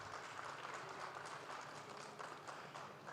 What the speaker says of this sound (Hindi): पहले जोरदार तालियां आपकी इस उपस्थिति के नाम